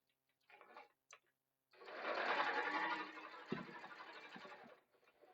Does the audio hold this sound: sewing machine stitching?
yes